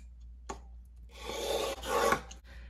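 A Magnus Stinger broadhead bevel is sharpened with down-and-back strokes, giving a single sharp tick followed by two rasping scrapes that build and fade, close and moderately quiet.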